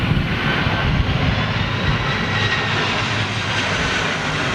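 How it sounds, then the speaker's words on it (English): Ryanair Boeing 737 jet on a steep, high-speed approach to landing, a steady broadband engine roar held loud and constant throughout without a break. "Looks like Ryanair 737."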